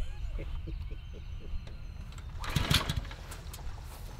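A SCAG 30-inch lawn mower engine cranks with a rhythmic low chugging that builds into a brief rougher mechanical burst before settling, fairly quiet, while people talk nearby.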